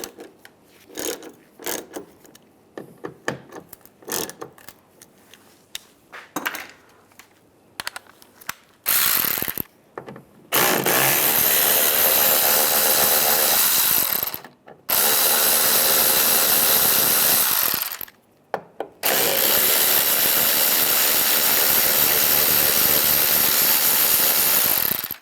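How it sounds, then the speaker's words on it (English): A ratcheting socket wrench with a T30 bit backs out two screws while an EVAP canister vent valve is replaced on a 2007-2014 Cadillac Escalade. Sparse clicks at first give way to long, loud, continuous ratchet runs, close up with no talk. "There's two screws right there and there. Take those out with a T30 socket."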